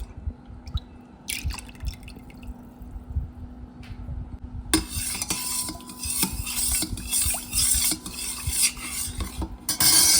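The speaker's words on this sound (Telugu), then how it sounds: "ఇప్పుడు ఇందులోకే మనం తీసుకున్న ప్యాకెట్ పాలు కూడా పోసి ఒకసారి కలుపుకుందాం అండి." Colostrum milk and packet milk are stirred together in a bowl, a steady swishing and clinking of a spoon against the vessel, growing louder and more vigorous partway through, with liquid sloshing close by.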